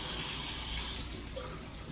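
Running tap water streams steadily over asparagus being rinsed, a close, even splashing hiss that eases slightly toward the end.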